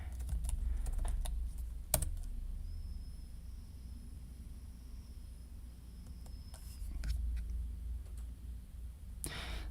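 A command is typed on a computer keyboard, with soft, fairly quiet key clicks in irregular bursts and a couple of sharper key strikes over low background hum, with no talking.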